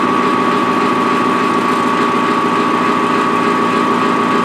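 A steady lathe whine cutting plastic hubs, with a constant high tone and a rough grinding texture beneath, unbroken for several seconds.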